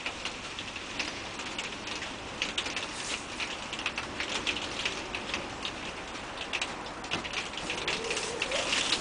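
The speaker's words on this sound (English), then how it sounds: "it's going to start peeing down the rain, so you might struggle to hear me in a minute" Heavy rain starts to fall outdoors, a steady dense patter of drops with scattered sharper ticks, fairly close and continuous with no talking.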